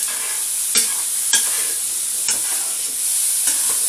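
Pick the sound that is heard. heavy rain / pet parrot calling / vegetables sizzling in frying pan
vegetables sizzling in frying pan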